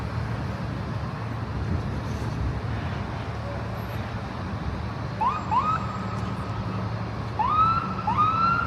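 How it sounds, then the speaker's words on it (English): An ambulance siren wails in rising sweeps over busy Bloor Street traffic in Toronto, growing louder as it approaches from a distance. "Here comes an ambulance along Bloor Street."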